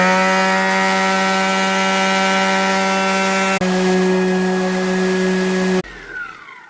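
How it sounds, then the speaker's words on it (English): A Milwaukee sander runs on high output, a loud steady whine with strong tonal harmonics, briefly interrupted by a short break, then cutting off near the end. "Let's see what happens with the sander."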